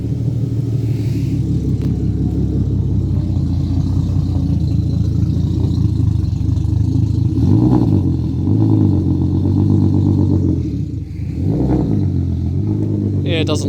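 A BMW E36 drift car with a turbocharged M50 engine idles roughly after a cold start, a loud, deep, uneven rumble with a couple of brief revs rising and falling near the end.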